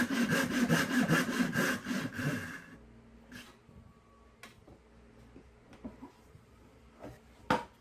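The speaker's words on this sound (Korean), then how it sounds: "심기일전하고 다시 톱질을 시작합니다" Rapid rhythmic rasping of a hand saw through wood for a few seconds, then stops, followed by scattered quiet knocks and clicks.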